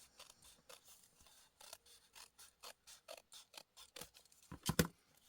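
Scissors trimming a paper window envelope, a series of short crisp snips in an uneven rhythm, quiet and close, ending with a few louder cuts.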